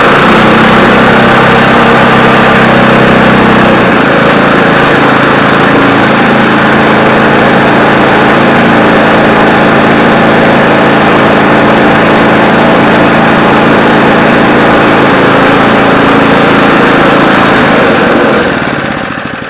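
The Tecumseh engine on a barn-find Homelite Jacobsen snow blower runs steadily after starting on the first pull, a very loud, close, continuous rattling roar that eases slightly at the end.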